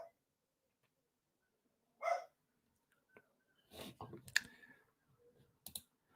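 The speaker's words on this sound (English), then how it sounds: "Oh, my dog's barking." A few sharp dog barks close by, scattered across a few seconds with quiet gaps between them and some clicking noises.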